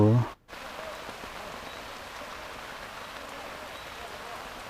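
Rain falls by the Nam Phong river during fishing, a steady close hiss of drops on surfaces that continues evenly, opening with a brief voice.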